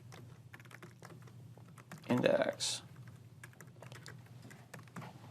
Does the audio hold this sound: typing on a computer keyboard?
yes